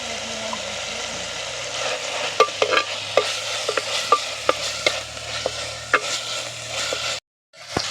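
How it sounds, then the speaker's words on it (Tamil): Greens and herbs sauté in oil in a pan while a utensil stirs and scrapes with occasional clinks, steady sizzle, close up; the sound cuts off abruptly near the end. "நல்லா எண்ணெயில் வந்து தோட்டி விட்டு நல்லா வதக்கிங்க"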